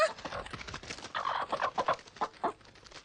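A newly hatched cartoon chick cheeping and clucking in a Hindi-dubbed Ninja Hattori episode, a quick run of short, bright chirps and peeps that grow more spaced out.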